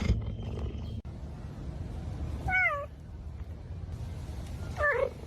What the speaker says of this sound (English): Yeah, they're all cats.